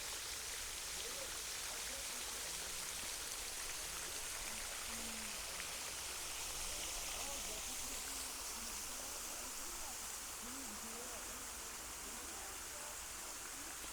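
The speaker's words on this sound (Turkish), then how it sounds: "Yine küçük bir şelale." A small waterfall spilling over the white travertine terraces and pools at Pamukkale, a steady close hiss of splashing water with a bright, even texture throughout, broken only briefly by faint voices in the background.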